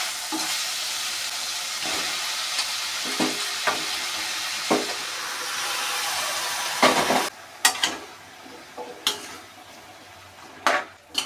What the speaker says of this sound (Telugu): ఇప్పుడు ముందుగా కట్ చేసి పెట్టుకున్న వంకాయ ముక్కలు వేసుకుంటామండి